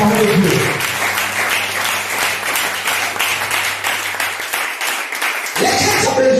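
A church congregation breaks into sustained, loud applause that fills the room, with voices over it and a musical tone beneath, fading briefly before sound swells again.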